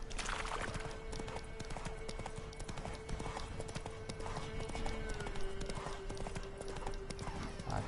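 Hooves of Roach, a horse in The Witcher 3, clip-clop at a steady gallop throughout, with a snort or whinny and game ambience layered over the rhythmic beat.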